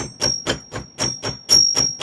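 Edge of a chasing hammer texturing silver in a silversmithing setting: eight sharp, evenly spaced metallic taps about a quarter second apart, close and moderately loud, with a faint steady high whine running underneath.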